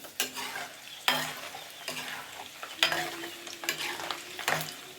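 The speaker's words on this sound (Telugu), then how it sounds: "ఒక 4 ఎండుమిర్చి, అలానే వెల్లుల్లిపాయలు వేసి వేగనిద్దాం." Four dried red chillies, garlic and chana dal fry in oil as a tempering for carrot pickle, a low sizzle broken by several sharp stirring scrapes in a quiet kitchen.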